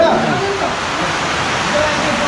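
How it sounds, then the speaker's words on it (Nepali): Heavy rain pouring down as a loud, dense, steady wash of noise that continues without a break, with a voice faintly under it. "पानी परिरहेछ अति पानी परिरहेछ"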